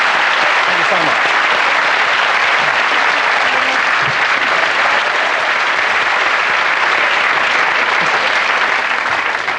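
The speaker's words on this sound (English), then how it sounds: "They're clapping him for finally finishing the marathon." A television talk-show studio audience gives loud, sustained applause that fills the whole stretch without pause, dense and even from start to finish.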